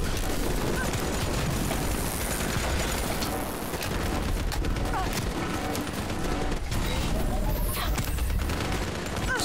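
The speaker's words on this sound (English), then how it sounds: "Someone's shooting me." Black Ops 3 battle with steady heavy gunfire and occasional blasts, the shots dense and continuous throughout, with faint voices mixed into the game noise.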